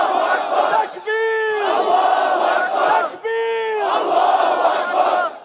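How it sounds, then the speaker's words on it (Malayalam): A large crowd loudly chants takbir in unison, with two long swelling call-and-response shouts rising over a constant roar of many voices. "തക്ബീർ വിളികളോടെ വലിയൊരു ജനക്കൂട്ടം ഉച്ചത്തിൽ ഏറ്റുപറയുന്നത് വീഡിയോയിൽ വ്യക്തമാണ്"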